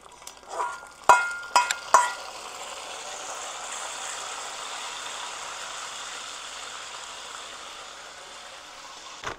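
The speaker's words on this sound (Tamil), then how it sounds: "மில்க் மேடு வறுத்து வச்ச முந்திரியும் பாதாமும் அதோட கலக்கிறணும்." Fried cashews and almonds get stirred into condensed milk for a nut payasam: a few sharp spoon knocks against the pan near the start, then a soft, even bubbling sizzle that holds steady and alone.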